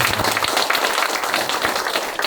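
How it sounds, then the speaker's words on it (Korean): Dense, steady audience applause at a rural agricultural policy debate with county election candidates, many hands clapping together in a continuous wash that holds at an even level throughout. "우리 큰 박수 부탁드립니다."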